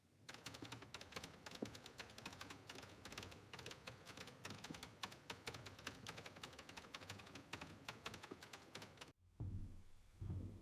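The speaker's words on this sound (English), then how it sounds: "Secretaries continued typing orders, even as the government around them disintegrated." Rapid typing in a documentary about the Battle of Berlin in 1945, a dense run of fast clicking keystrokes that continues for about nine seconds and then stops abruptly, leaving a low, quiet background rumble.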